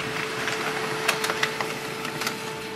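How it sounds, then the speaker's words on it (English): An HP LaserJet Tank 2504dw printer prints an information page, a steady mechanical hum with a constant tone and a few scattered clicks and rattles of paper feeding, close by and with no talking. "So it has printed a page"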